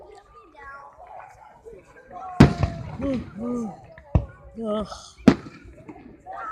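Fireworks at a Keansburg display go off in three loud, sharp bangs spread across several seconds, with people talking and exclaiming throughout.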